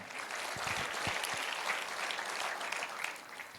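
A church congregation at an Easter service breaks into dense, steady applause, a continuous wash of many hands clapping at close range for a few seconds.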